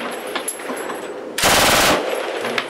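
A sharp burst of machine-gun fire rips out in the middle, lasting about half a second, over a steady noisy background.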